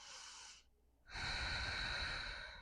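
Heavy, close breathing while holding downward-facing dog in an Ashtanga-style yoga flow: one audible breath, a brief quiet pause, then a longer, louder, airy exhale.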